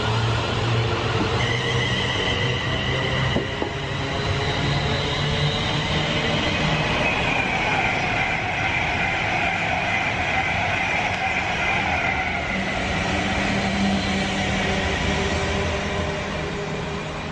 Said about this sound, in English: that's a train going to London Euston